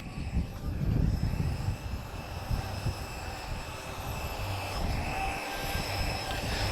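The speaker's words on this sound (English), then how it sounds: "Oh, Auto Gyro's already up." An autogyro flying over an airshow crowd, its steady droning rotor and engine roar continuous and moderately distant throughout, mixed with broad outdoor background noise.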